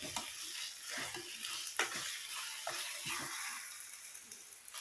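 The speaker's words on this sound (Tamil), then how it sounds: "நல்லா கிளறி விட்டுக்கிட்டே இருங்க" Egg fry being stirred in a pan, with a spatula scraping steadily through a soft sizzle that continues throughout.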